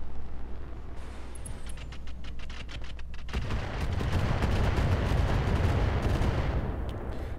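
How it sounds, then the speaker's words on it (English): Missiles fired at a mech in Roguetech: a rapid string of launch cracks gives way to a dense, roaring barrage of impacts and blasts, loud and continuous, with no talk. "We're going to hit him with some missiles, I think,"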